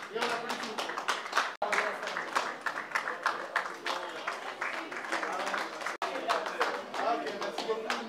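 Applause from a gathered audience at a civil wedding ceremony, a dense, steady patter of many hands clapping at close-to-moderate distance, running the whole time with two brief sharp drops, mixed with a little background voice.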